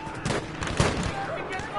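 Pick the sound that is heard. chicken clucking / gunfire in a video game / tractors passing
gunfire in a video game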